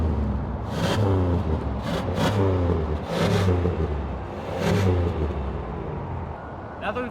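Rear exhaust of a 1998 Chevy Malibu in poor condition, a steady low rumble close to the tailpipe with a few swelling revs, continuous for several seconds with no talking.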